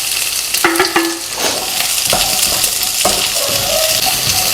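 Shallots sauté in hot oil in a pan with a loud, continuous frying hiss, close up, broken by several spoon scrapes and clinks against the metal as they are stirred.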